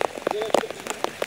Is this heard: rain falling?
yes